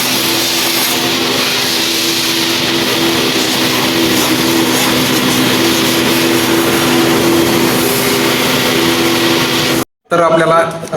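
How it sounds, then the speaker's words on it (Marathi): A vacuum cleaner sucks dirt from inside a Hyundai Aura car during its second service. The loud, steady drone runs close and continuous, then cuts off abruptly near the end. "आता शेवटचं व्हॅक्यूमनी गाडीतली घाण काढत आहे"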